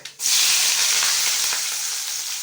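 Onion, garlic and curry leaves drop into hot oil with spluttering mustard seeds, bursting into a loud, sudden sizzle that holds steady and eases off only slightly.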